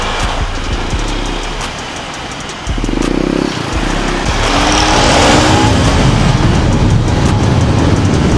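A UM Scrambler 150 motorcycle accelerates hard, its engine note dipping at a gear change before climbing into a loud, rising rev that carries to the end with wind noise.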